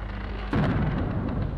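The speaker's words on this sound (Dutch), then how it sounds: "Interessant kanonschot zou ik zeggen." Video game cannon shot: a sudden heavy boom cuts in over a steady low hum and leaves a rumbling, crackling tail that lingers to the end, with a faint bright tone at the close.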